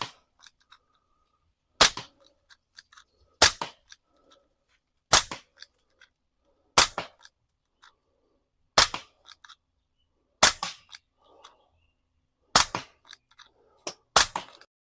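SIG Sauer M17 pistol fired outdoors, eight sharp single shots spaced about two seconds apart, loud and close, with faint birdsong and small rustles between shots.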